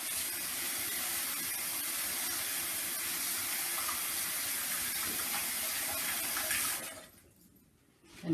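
A tap runs steadily as hands are rinsed at a sink, a continuous close rush of water that cuts off near the end, leaving quiet.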